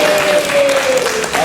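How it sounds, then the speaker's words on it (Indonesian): Audience applause from a school presentation group fills the space, loud and steady throughout, with a sustained tone running underneath. "tepuk tangan kita semua"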